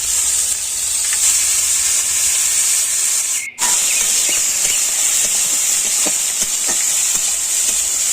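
Bitter gourd dropped into a hot pan sizzles loudly with a bright, steady steam-like hiss, broken by a brief dip midway, with light stirring clicks underneath.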